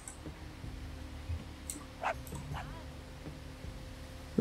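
A dog in the prehistoric survival game Dawn of Man gives a few faint, short yips and barks, spaced apart, over a low steady hum, with no one talking.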